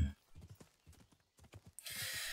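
Horse hooves from the game Kingdom Come: Deliverance clip-clop in a steady rhythm at close range, then a burst of broad hissing noise rises and holds over the last stretch.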